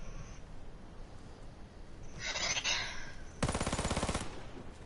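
A golden gun in a video game fires in a short rattling burst, near and fairly loud, after a brief softer hiss, with no voices over it.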